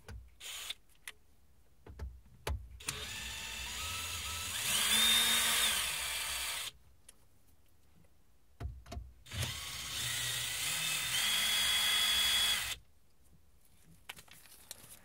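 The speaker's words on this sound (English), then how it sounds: "I also need to remove these 2 T20 screws holding the radio in." A power screwdriver unscrews T20 screws holding a car radio head unit, two short whirring runs of a few seconds each separated by quiet handling clicks, close and fairly faint.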